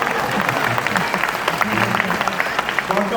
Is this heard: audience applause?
yes